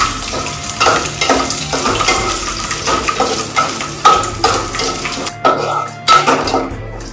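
Garlic cloves and dried red chillies fry in oil in a pan, giving a continuous close sizzle broken by repeated stirring scrapes and metal clatter in a steady rhythm.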